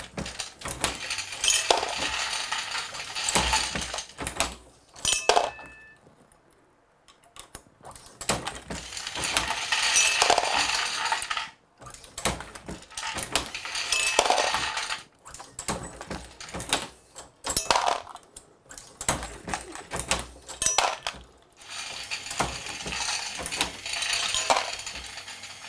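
An RCBS Pro Chucker 5 progressive press loads 40 S&W ammunition, producing repeated metallic clacks, ratcheting clicks and rattling of brass in cycles, with brief quiet gaps between strokes.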